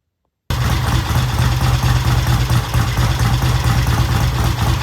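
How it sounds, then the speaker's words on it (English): A vintage British motorcycle engine idles steadily with no throttle, a loud, even, close-up rumble that starts abruptly and holds without revving. "It's now sitting there idling."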